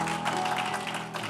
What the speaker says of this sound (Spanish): Dale un aplauso fuerte a Cristo.